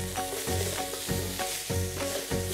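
Grated ginger and roughly chopped garlic are stirred in a hot pan, a steady sizzle broken by rhythmic scraping strokes about every half second, close and without voices.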